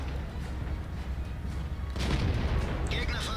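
A Tiger II heavy tank battle in a World of Tanks-style game: a steady rumble of combat noise, then a louder booming shot partway through followed by crackling, ringing debris sounds.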